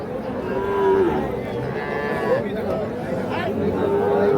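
Cattle and small calves moo repeatedly amid the dense murmur of a busy crowd at Ambari livestock market, with several low calls rising over the chatter.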